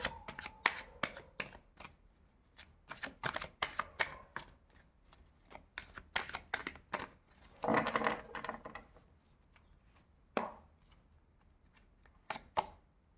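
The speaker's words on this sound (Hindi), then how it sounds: "एक कार्ड और लेते हैं फिर रीडिंग करते हैं।" A deck of tarot cards being shuffled by hand, crisp rapid riffles and soft slaps in uneven bursts with brief pauses, close and fairly quiet, with no talking.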